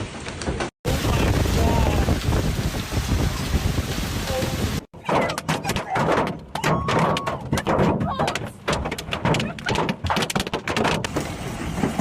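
Large hail, close to four inches across, falls in a severe Texas thunderstorm. It makes a dense, loud roar of impacts. Then comes a stretch of sharp, irregular thuds and cracks as stones strike nearby surfaces.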